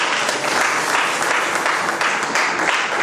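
A church congregation applauds to acclaim the Lord, a steady, dense wash of many hands clapping together for about three seconds with no break.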